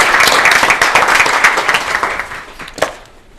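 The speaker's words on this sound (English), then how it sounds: "Let's give a round of applause." A round of applause at a school board meeting, dense clapping from a seated audience that holds steady and then tapers off to a few last claps.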